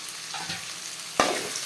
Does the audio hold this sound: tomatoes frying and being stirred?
yes